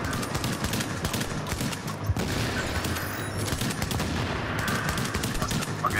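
Sustained automatic gunfire rattles throughout a fight in Tom Clancy's The Division, with rapid overlapping shots, some nearer and louder, in an underground mission.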